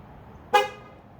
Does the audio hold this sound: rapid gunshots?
no